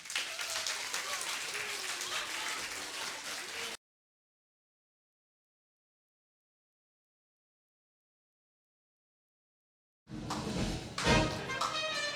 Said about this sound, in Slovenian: jih spodbudimo z enim velikim aplavzom